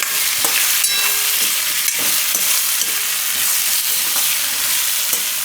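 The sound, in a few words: frying spices and turmeric in oil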